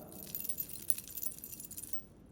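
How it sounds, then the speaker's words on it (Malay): Metal keys hanging loose on a chain jangle and clink continuously for about two seconds, close up, before cutting off, with no talking. "Ni bunyi kunci lah, kunci."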